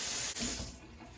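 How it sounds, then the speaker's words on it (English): A kitchen tap runs steadily as hands are washed while keto cheeseburgers are being made, a soft hiss of water that thins out toward the end. "I'm going to wash my hands."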